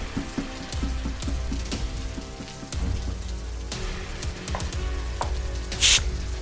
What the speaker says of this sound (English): This is not normal rain. If you stay here too long, we will get burned.